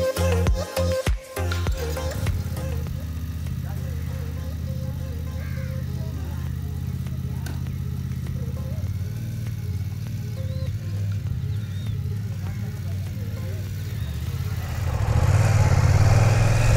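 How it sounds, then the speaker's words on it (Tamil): A brand-new BMW F900XR motorcycle ridden on the road gives a steady mid-pitched engine drone with wind noise, rising louder near the end, after a few sharp knocks at the start. "Brand new BMW F XOR 900 ஓட்டிகிட்ருக்குறோம்."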